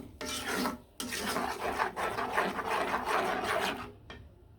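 Blended sesame paste stirred in a pan while cooking with small shrimp, a steady close scraping and rubbing that runs almost continuously for several seconds, broken by a brief pause near the start and fading at the end.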